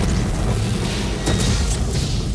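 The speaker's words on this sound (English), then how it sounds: "the explosions look pretty cool" Continuous heavy booming rumble of explosions, dense and loud throughout, with a few sharper bursts mid-way and no pauses between them.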